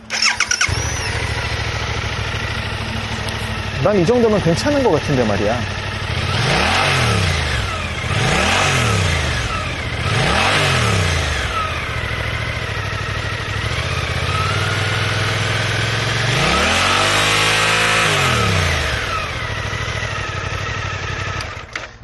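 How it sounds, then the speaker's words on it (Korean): A Suzuki GSX-8R motorcycle starts up and idles close by, its exhaust blipped through several quick revs and then one longer rev, with someone speaking briefly over the idle. "배기음을 한번 들어볼까요?"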